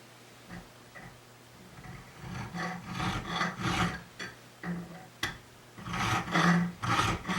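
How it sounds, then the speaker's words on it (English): A hand file rasps against the cutting edge of an auger bit in a series of close, scratchy strokes, uneven in rhythm and loudness, with no talking. "I'm going to try filing that other one so they slice instead of tear"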